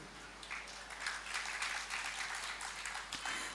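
Audience at a religious discourse applauding steadily, a soft spatter of many hands clapping at a distance, faint and even throughout with no talk over it.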